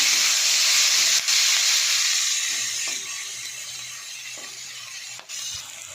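Garlic and ginger paste hitting a hot pan, a loud bright hiss that starts strong and gradually softens, broken by a couple of sharp clicks near the pan.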